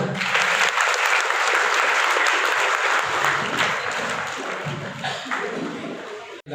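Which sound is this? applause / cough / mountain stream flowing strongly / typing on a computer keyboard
applause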